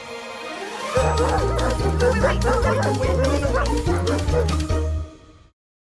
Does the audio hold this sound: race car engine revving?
no